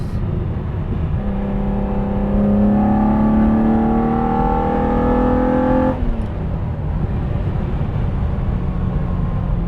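A 1973 Ferrari 365 GTB/4 Daytona's V12 engine drones and climbs in pitch through several rising gear pulls, then settles to a steadier cruising hum; no talking.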